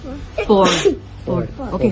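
A child's sneeze in a school math class, one short burst between voices of children and a teacher talking nearby.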